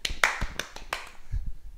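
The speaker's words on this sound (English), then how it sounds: "See how many claps you can get done" A person claps during a tennis ball catching drill at home, giving a quick run of sharp, close hand claps in an uneven rhythm, with a soft thump near the end.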